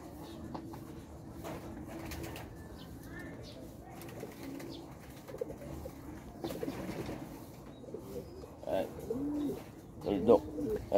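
Racing pigeon cooing softly at close range, low murmuring coos that grow a little louder toward the end, over a busy background of loft noise and other birds.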